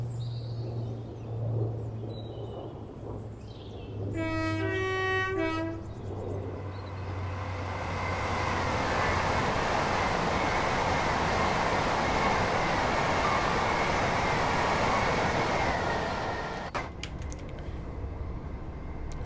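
A train in the Train Sim World 4 game rushes past on the East Coast Main Line, a brief horn-like tone giving way to a broad rumbling roar that swells and then fades.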